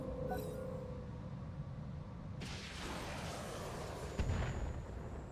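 Artillery fire in the RogueTech mech game, a sudden distant boom partway through followed by a rumbling tail, then a second heavier thump near the end over steady low background noise.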